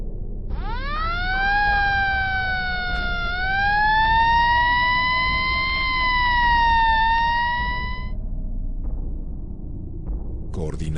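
An ambulance siren at the scene of a 1971 street attack in Mexico City, a loud wailing tone rising and holding steady for several seconds over traffic rumble before cutting off.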